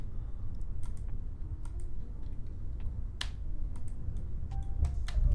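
Keys tapped on a computer keyboard, including the spacebar, while launching a rocket in Kerbal Space Program: scattered, uneven clicks over a steady low hum, fairly close and soft, with no talk.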